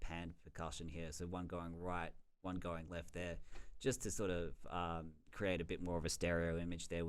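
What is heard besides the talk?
No everyday noise stands out behind the speech.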